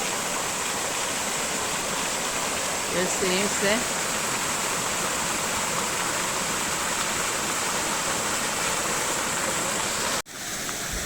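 A waterfall beside the Paşaderesi restaurant in Çameli, Denizli, rushes with a steady, loud roar throughout; a voice speaks briefly over the water near the start.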